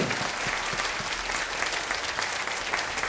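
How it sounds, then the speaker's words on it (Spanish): Dense, steady applause from an audience at a political rally honoring federal deputy Brasil Acosta Peña, a continuous crowd roar of many clapping hands with no pauses. "Que se escuche el aplauso fuerte, fraterno, cariñoso para el doctor Brasil Acosta Peña"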